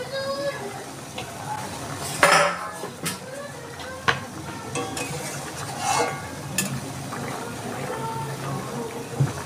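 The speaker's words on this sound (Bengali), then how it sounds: "আমি এবার ঢাকনাটা খুলে একটু দেখছি।" A pot lid comes off while rasgulla simmers in syrup, with a clanking metal knock followed by soft bubbling and stirring sounds and occasional clinks, as someone talks over it.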